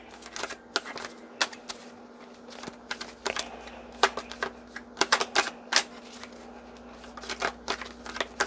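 Tarot cards drawn and handled, giving a run of sharp papery snaps and flicks in irregular bursts, close and fairly crisp over a steady low electrical hum, with no talking.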